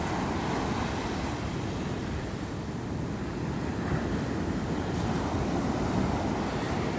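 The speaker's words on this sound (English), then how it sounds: "Surprisingly, the waves are not that big right now." Ocean surf breaks and rolls in a continuous roar before a typhoon, with steady wind buffeting the microphone and no distinct individual wave crashes standing out.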